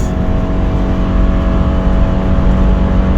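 A 2014 Subaru Outback Limited with a 2.5-litre engine and automatic transmission accelerates with a loud, steady engine drone and road noise heard from inside the cabin, building evenly with no talk over it.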